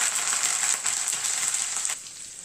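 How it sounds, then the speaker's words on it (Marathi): Curry leaves crackle and sizzle steadily in hot oil in a kadhai, a bright, dense frying hiss that drops abruptly near the end. "तेल शिल्लक ठेवलेलं आहे, त्यात टाकून घेणार आहे कढीपत्ता."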